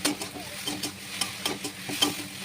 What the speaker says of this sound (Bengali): হলুদ গুঁড়ো, স্বাদ মতো লবণ দিয়ে নেড়ে চেড়ে জলটা একদম টানিয়ে নেব।